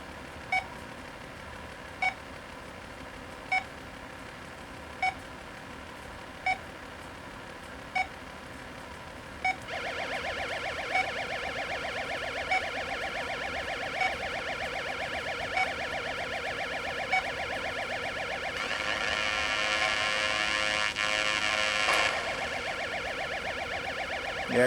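Electronic sounds from a 1980 Atari Battlezone arcade game board under repair: evenly spaced beeps pulse alone at first, then a steady buzzing engine-like drone takes over and grows louder near the end.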